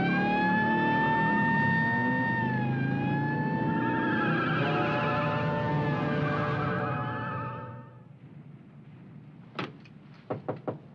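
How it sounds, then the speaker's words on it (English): A police car siren wails loudly with long, slowly shifting tones for about eight seconds, then cuts off, followed by a few sharp clunks like doors closing. "I've got a siren, and this time you follow me."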